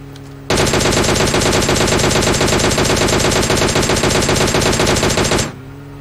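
A long, loud, unbroken burst of rapid automatic gunfire in PUBG Mobile, close and steady for about five seconds before stopping abruptly.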